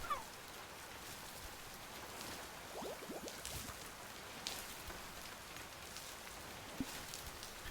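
Rain falls in the Oceaneers flooded-waterworld survival game: a soft, steady patter on surfaces, quiet and continuous with a few scattered drips and light knocks.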